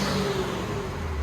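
Turbo blow-off valve on a 2018 Kia Stinger GT 3.3L twin-turbo V6 with dual exhaust and resonators, a steady whooshing engine rush with a faint whistling tone, close and loud, with no talking.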